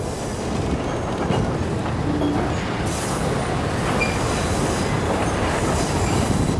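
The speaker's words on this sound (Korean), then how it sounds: "무서우니까 기차 거기는 천천히 왔어" A train rolls slowly across a wooden-trestle bridge cut along a cliff above the River Kwai, with loud, steady rumbling, wheel clatter and occasional high squeals continuing throughout.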